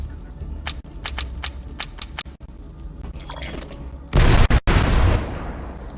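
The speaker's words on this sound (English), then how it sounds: "Switch to your rocket launcher and use it to blow up an enemy vehicle." A rocket launcher fires at an enemy vehicle in the PlanetSide 2 video game. Several sharp clicks come first, then a loud, sustained blast and roar near the end.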